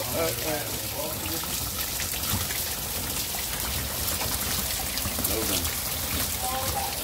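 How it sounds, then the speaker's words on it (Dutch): Steady patter of rain with water dripping indoors throughout, mixed with voices talking over it. "Daarom regent het ook hier naar binnen."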